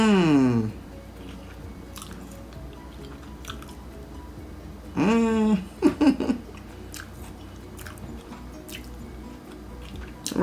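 Someone chewing a cheesy bacon popper oozing mozzarella, soft wet bites and squishy mastication heard close up, with brief vocal sounds at the start and midway between quieter chewing.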